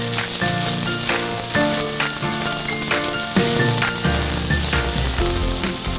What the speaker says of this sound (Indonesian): Masukkan kacang, bawang merah, bawang putih, kemiri, dan cabai ke dalam penggorengan dan goreng semuanya hingga matang.